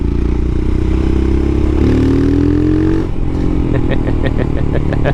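Royal Enfield Himalayan motorcycle fitted with a Lextek exhaust, riding off-road over gravel: a loud, close, continuous engine drone that shifts pitch as the revs change, with gravel clatter beneath and no talking.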